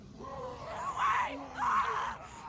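A girl screams in a zombie apocalypse video game, two drawn-out, strained cries rising and falling over a low background rumble, fairly close and loud, with no talk over them.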